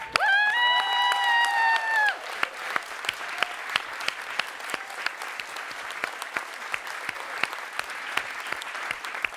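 At a Solve at MIT closing plenary, applause for the staff rises after a brief sustained tone at the start, then scattered claps and a few cheers continue at moderate level.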